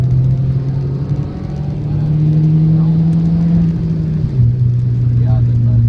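A Peugeot 307 race car with an original 1.8 engine and a sequential gearbox drives a track-day circuit. Its engine drone holds loud and steady, then drops in pitch briefly near the end as if changing gear.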